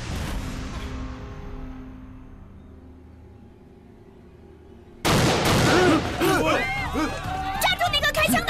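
Gunfire in a kung fu film scene: a quiet, murky stretch gives way to a sudden burst of loud, sharp shots and crashing commotion that carries on to the end, with voices mixed in.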